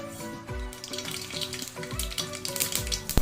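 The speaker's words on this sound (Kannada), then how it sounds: "ಸಾಸಿವೆ ಚಟಪಟ ಅಂದಮೇಲೆ ಜೀರಿಗೆ ಆ್ಯಡ್ ಮಾಡ್ಕೊಳ್ಳಿ" Mustard seeds splutter and pop in hot oil for coriander rice, a crackling sizzle with repeated sharp bursts over about three seconds, close and moderately loud.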